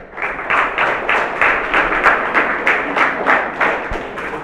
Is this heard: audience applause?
yes